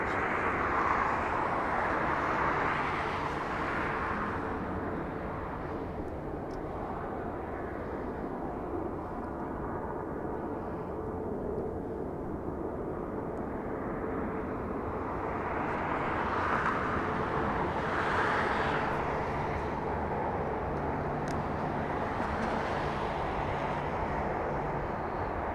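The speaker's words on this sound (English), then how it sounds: "Up next to land is a Southwest Airlines flight 856. Flying in from Kansas City, Missouri. 3 hours of flight time, a 737 NG." A Southwest Airlines Boeing 737 NG lands at Los Angeles International Airport, its steady, distant jet roar holding throughout. The roar swells slightly near the start and again near the end, with faint broadband wind-like noise and no speech.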